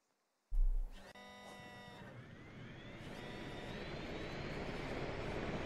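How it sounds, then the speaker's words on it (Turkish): An aircraft engine in the video game Squad starts with a sharp burst, then a whining, rising drone builds and holds steady, loud and close, with no voices. "Oha, uçak motoru bu."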